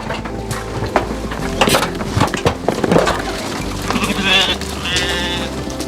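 Sheep bleat over a busy farmyard scene, with clattering and shuffling noises and a few nearby bleats toward the end.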